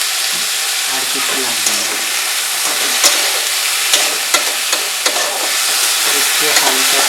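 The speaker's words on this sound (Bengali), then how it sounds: "একটু হালকা করে নাড়াচাড়া করে নেব।" Prawns and stalks fry with chilli powder in a pan for a poppy-seed dish, loud sizzling under repeated stirring scrapes and clacks of a spatula, with a brief spoken comment partway through.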